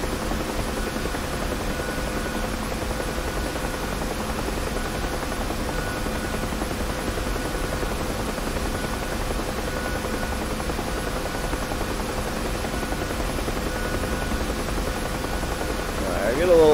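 A Huey helicopter flying in the DCS flight simulator, its rotor and engine making a constant loud droning hum throughout with no break.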